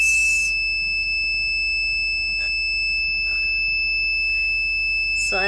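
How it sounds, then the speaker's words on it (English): An Arduino-based fire fighting robot's buzzer alarm sounds as a steady, loud electronic tone held throughout, with a few faint clicks and a brief burst near the end. "until the fire stops, the buzzer will make the sound to alert everyone around"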